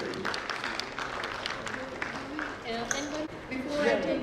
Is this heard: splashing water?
no